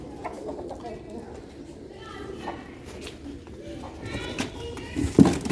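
Sialkoti pigeons coo softly in the background while people talk nearby. A sharper sound is heard near the end.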